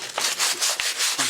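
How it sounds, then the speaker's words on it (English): Close, loud back-and-forth rasping of crud being sanded off the outside of a ceramic water filter, about six quick even strokes with no talking. "it's got to be sanded off and the crud removed from the outside of this thing"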